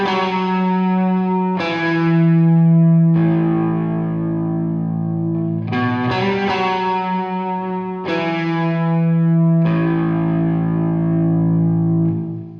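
Electric guitar with heavy distortion plays a song: loud sustained chords struck about every one and a half seconds, each left ringing, with no voices.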